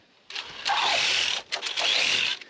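Electric motor of an RGT Pathfinder RC crawler whines up in two close bursts of acceleration, a short pause between them, loud and whirring.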